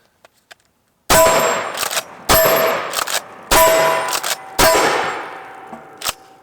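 Four loud shots from a Benelli SuperNova 12 gauge shotgun firing double aught buck crack out about a second apart, each ringing off with a metallic clang on steel targets, after a few faint clicks.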